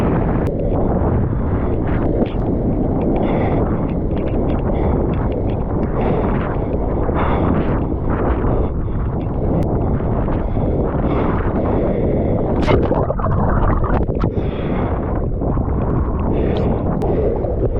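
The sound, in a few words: wind and shorebreak waves at the beach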